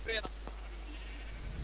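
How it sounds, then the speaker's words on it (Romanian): A Minecraft sheep lets out a short bleat at the very start, followed by faint game ambience under a steady low hum. "Păi, oiță!"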